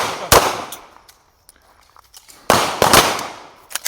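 Sharp, loud shotgun-style reports ring out at a shooting seminar aimed at targets: one crack early on, then after a quiet gap a quick pair of blasts, with small clicks and thuds between.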